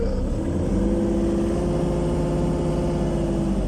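A Kubota KX37 mini excavator's diesel engine runs steadily at raised, automatic-throttle revs, a continuous close, loud hum with no talking.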